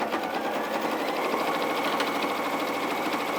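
Close and steady, a sewing machine top-stitches fabric in a continuous rapid mechanical whir with no pauses and no voices.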